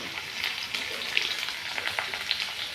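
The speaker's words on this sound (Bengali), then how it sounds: "তারপরে আমি আলু আর বেগুনগুলো দিয়ে দিচ্ছি। আলু বেগুনগুলো ভাজা হলে" Potatoes and eggplant fry in a pan of hot oil, giving a steady, close crackling sizzle with small pops throughout.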